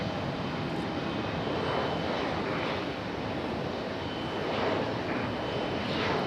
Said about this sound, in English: Dang, rapid fire departures here. That E175 on the move.